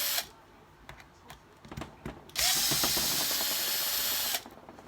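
A Milwaukee power screwdriver fitted with MIP speed tips backs screws out of an RC truck chassis; scattered clicks and taps lead into a close, loud two-second motor whir that cuts off abruptly.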